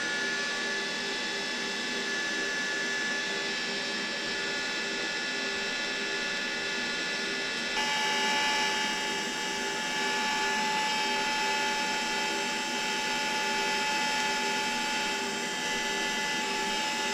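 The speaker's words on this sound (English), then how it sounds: "You take the TIG welder and tack it up." A TIG welder working on a turbo housing produces a steady, faint electrical buzz and hiss with a thin constant tone, continuous and unvarying with no voices.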